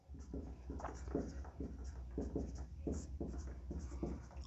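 Chalk or pen writing out a chemical reaction on a board, rhythmic strokes and taps repeating steadily for several seconds over a low constant hum, with no voice.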